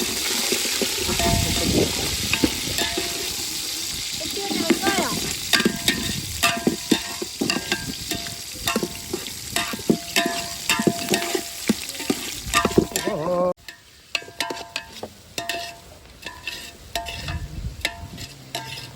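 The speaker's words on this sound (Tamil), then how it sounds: "எண்ணெய் சூடாயிட்டு கொஞ்சம் கடுகு வெந்தயம் கொத்தமல்லி கருவேப்பிலை" Mustard seeds, fenugreek, coriander and curry leaves, then onions, sizzle steadily in hot oil in one large pot for a dried-fish curry serving twenty, with stirring scrapes throughout and a quieter, sparser crackle near the end.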